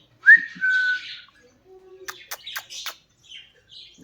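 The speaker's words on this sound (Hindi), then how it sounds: "सीटी बजा चल।" A pet female parrot whistling close by, a bright rising whistle followed by a string of short sharp chirps and squawks, loud and clear against a quiet room.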